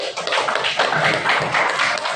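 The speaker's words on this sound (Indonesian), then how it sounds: "Tepuk tangan." Students in a classroom clap their hands together in a brief, dense burst of close, soft claps lasting a couple of seconds.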